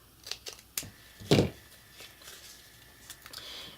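Scissors making relief cuts in chipboard: several sharp, close snips at uneven intervals, one louder crunching cut, then quieter rustling handling.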